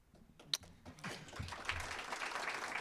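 Audience at a public conversation event with a district attorney breaking into applause, starting with scattered claps and building into steady, moderately distant clapping from a crowd.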